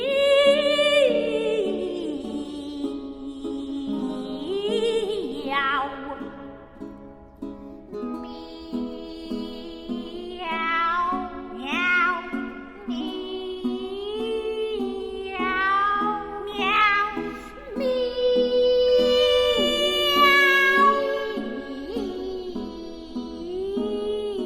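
A soprano voice sings long sliding meow-like notes, imitating a cat, with a second high voice weaving in; wavering, operatic and fairly loud throughout.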